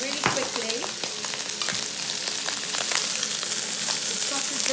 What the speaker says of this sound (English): Then I'm going to add some prawns. The oil is very, very hot, so everything goes in really quickly.